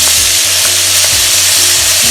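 Crushed ginger, garlic and curry leaves sauté with a pinch of salt in a pan over medium flame for tuna fish masala, giving a loud, steady close sizzle with rhythmic stirring scrapes and no voices.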